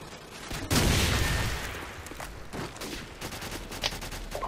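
Gunfire rattles in a Call of Duty 4 online match with an M60E4 machine gun, starting as a loud burst and fading into scattered shots and faint reports, with no talking.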